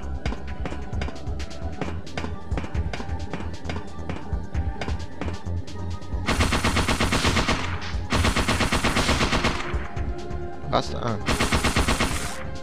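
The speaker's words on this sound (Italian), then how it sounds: "Usiamo il mitragliatore normale, va." Standard machine gun firing in Parasite Eve 2, rapid bursts of loud rattling shots in several long runs with short pauses, over game sounds and a brief vocal grunt.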